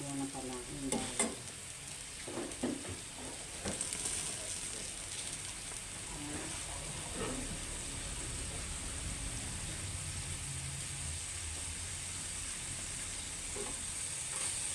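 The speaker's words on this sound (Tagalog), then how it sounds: "Gigisa na natin ngayon yung sibuyas, tsaka yung bawang muna pala, yung bawang." Onion and garlic sautéing in a pan, a steady low sizzle running throughout with a few scraping stir clicks near the start, close and fairly quiet.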